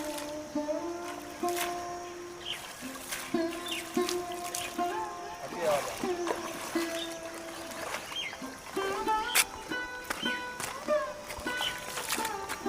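Warm, sweet spring water flowing steadily from a natural spring and waterfall in the Soon Sakesar Valley near Khushab, a soft continuous trickle heard from close range beneath intermittent talk, birdsong and scattered clinks.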